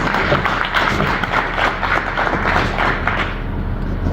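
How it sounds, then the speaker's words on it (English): Audience at the grand inaugural function of the American Multicultural Alliance network applauding its two chief guests, a steady, dense round of clapping from a crowd, sustained and fairly loud throughout with almost no talk. "A big round of applause for our both chief guests."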